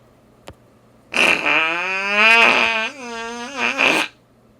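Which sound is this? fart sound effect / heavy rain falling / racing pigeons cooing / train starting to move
fart sound effect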